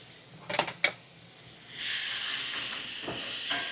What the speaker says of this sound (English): I'm gonna drop the onion and the garlic, the rest of the garlic in there